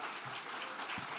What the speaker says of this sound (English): Please join me in giving them a round of applause as we start.